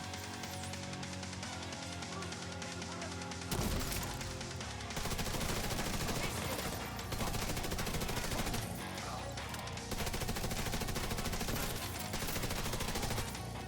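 Deployed turret firing in The Division 2, with dense, rapid bursts of automatic gunfire rattling almost continuously throughout, fairly quiet in level with brief gaps between volleys.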